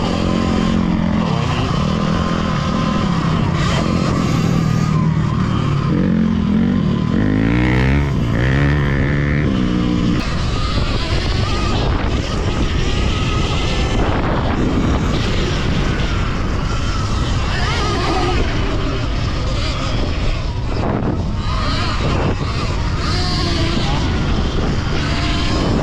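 A Surron Ultra Bee electric dirt bike rides a wet motocross track at Cahuilla Creek, its loud, close whine and wind roar continuous and rising and falling with speed throughout.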